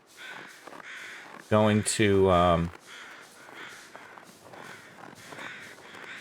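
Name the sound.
crows cawing in the video game The Long Dark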